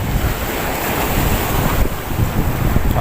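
Strong sea waves surge and crash against a breakwater in Abu Dhabi in bad, windy weather, a steady loud roar of surf with heavy wind buffeting the microphone throughout.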